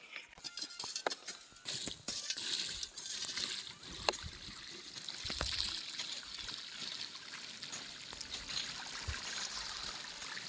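Faint water trickling and splashing in irregular spurts over plastic mulch on a farm, with occasional sharp crinkling taps nearby and quiet background noise.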